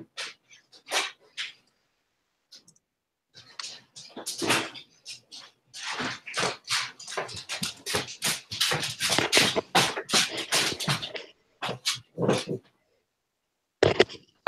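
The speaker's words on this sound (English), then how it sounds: "Hang on, I gotta let my dog in." A pet dog barks repeatedly indoors, a run of sharp, close barks in bursts with short pauses, loud and uneven in rhythm, no talk over it.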